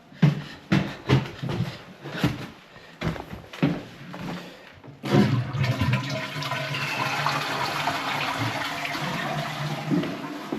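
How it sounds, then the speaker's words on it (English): Toilet flushing upstairs in a house during a space-saving toilet installation, with a loud rushing surge that settles into a steady refilling hiss lasting several seconds, preceded by a few sharp knocks and clatters. "I'll head upstairs, flush the toilet"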